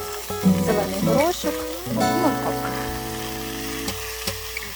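Frozen mixed vegetables and broccoli sizzle on an outdoor grill, a moderate crackling hiss beneath a person talking nearby, with a few louder bursts as the pieces land.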